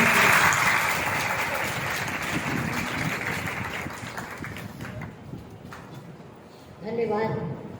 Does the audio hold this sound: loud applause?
yes